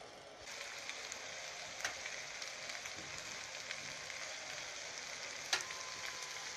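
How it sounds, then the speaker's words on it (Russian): Zander frying in a pan, a soft continuous sizzle and crackle with a couple of small clicks, fairly quiet. "Судака будем жарить."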